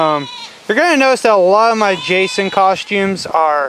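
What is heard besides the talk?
goats bleating outdoors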